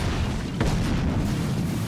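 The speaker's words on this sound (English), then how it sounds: "here comes the howitzer" A howitzer cannon fires in a team video game match, giving one deep booming blast partway through over a rumbling background of game noise.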